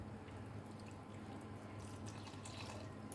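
Chhena whey water poured from close by into a pan of simmering potato curry for chanar kofta, a steady, even splashing trickle that runs alone throughout.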